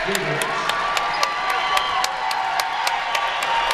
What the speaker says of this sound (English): That's Rachel Finley and Meg Gambrel getting a much deserving standing ovation from the Holly Pond crowd